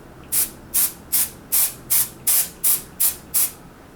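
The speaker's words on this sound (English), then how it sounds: "I just spray this on, rub it all over." A pump bottle of self-tanning spray hisses out nine short, evenly spaced bursts, each a bright, close spritz with brief pauses between, heard alone without any talking.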